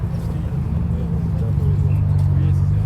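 A Nissan GT-R supercar at an outdoor supercar gathering on a riverside quay gives off a deep, steady engine rumble that thickens midway through, with a voice faintly over the low growl.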